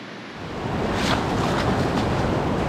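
Ocean surf in the back bay and beach waters at Montauk swells up into a loud, close, continuous rush of breaking waves and wash, with no voices.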